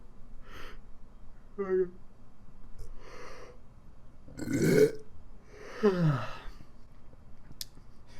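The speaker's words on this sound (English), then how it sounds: "start with a yawn into a burp" A person gives a drawn-out yawn that turns into a deep burp, with a few short breathy sounds and gasps scattered around it, close and fairly quiet.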